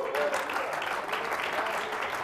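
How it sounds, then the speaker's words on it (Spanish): A church congregation at a Spanish-language service breaks into loud, sustained applause, dense clapping that holds steady throughout. "¿Cuántos dan un fuerte aplauso al Señor?"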